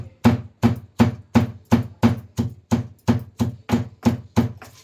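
Betel leaves and fenugreek seeds pounded coarsely in a mortar, a steady run of about thirteen evenly spaced, loud, close thuds with short gaps between them and no voices.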